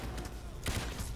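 Pistol fire in the heist shooter Payday 2, a short burst of dense, noisy gunshot blasts, the loudest crack landing just past halfway, with no talk.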